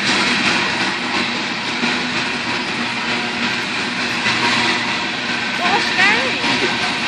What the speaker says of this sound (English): It's a pretty long grain train.